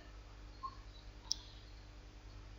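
Two faint, isolated computer mouse clicks, one near the start and a sharper one about halfway through, over a quiet background hum.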